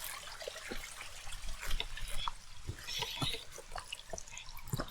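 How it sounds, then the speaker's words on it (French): Small stream flowing just out of sight near a village, giving a faint trickling and dripping of water with soft splashes and burbles throughout. "Ah, là on entend l'eau couler. On va avoir un petit ruisseau je pense."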